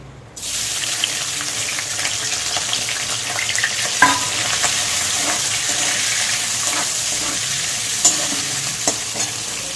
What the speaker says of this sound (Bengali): এবার তেলের মধ্যে দিয়ে দেবো চিংড়ি মাছ।